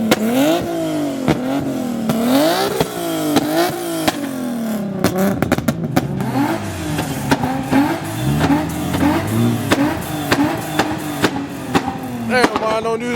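Dodge Hellcat V8 revving hard at a tuner night car meet, with repeated loud throttle blips and rising, falling engine howls close by; crowd voices talk and shout over it.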